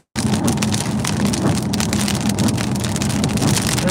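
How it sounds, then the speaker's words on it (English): Heavy rain drums loudly and steadily on a vehicle, a dense close hiss of drops with occasional harder taps that could be small hail. "I think there's a little bit of hail in this film. You can hear like every once in a while like clap, clap."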